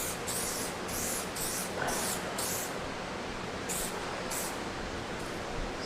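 A spray gun lays blend coats of paint across a car's quarter panel on a Sonic, a steady hissing spray broken into repeated short bursts, close and loud with no talking.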